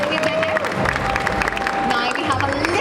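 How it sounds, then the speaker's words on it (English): A comic con audience claps and cheers steadily throughout. A voice carries on over the dense crowd noise. "Big round of applause for Jaden."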